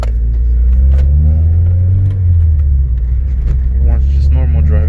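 A car engine rumbles loudly and steadily while driving on a tuned Honda-style VTEC setup, a deep continuous drone with a slight rise in pitch toward the end as it accelerates.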